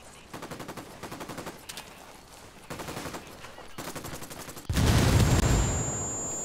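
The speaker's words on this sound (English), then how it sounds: "I think that was a grenade." A grenade blast in the shooter game Ghost Recon Wildlands: a loud, broad burst that hits suddenly after rapid rattling gunfire, then rumbles and fades, close and without talk over it.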